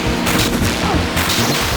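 Gunfire from the video game Parasite Eve, fired with a fully upgraded gun: a loud, dense run of sharp blasts and booms packed closely together over under two seconds.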